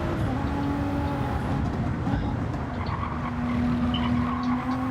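A Lamborghini race car in a video game roars steadily at close range, with sustained engine drone and tire skidding and squealing. A faint voice sits underneath.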